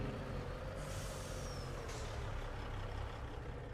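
A heavy truck in a modded driving video game gives a continuous, harsh, hissing brake rumble with a brief sharper burst partway through, loud and close.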